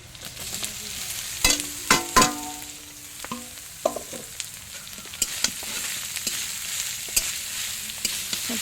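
Food fries in a pan while cooking outdoors at a picnic, with a low, constant sizzle broken by sharp scraping and clanking as a utensil stirs.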